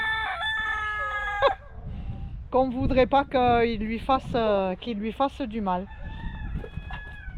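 Roosters on a farm crow back and forth with a neighbour's cock, loud nearby cock-a-doodle-doos with some clucking, while someone speaks in French between and over the calls.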